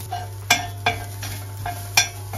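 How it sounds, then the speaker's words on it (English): Peas tipped into a pot of cooking pasta, giving a few sharp clinks and knocks of metal cookware at irregular moments over a steady low hum. "we're now going to add the peas to the pasta"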